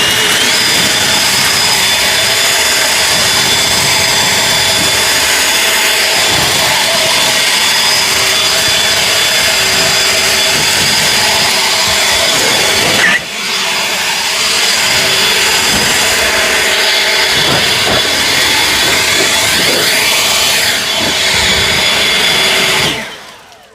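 EGO Power+ LB7650 cordless leaf blower fitted with a tapered nozzle, a loud steady rushing whine running continuously for about twenty seconds, with a brief dip in the middle before it cuts off at the end.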